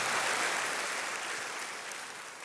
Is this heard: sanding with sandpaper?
no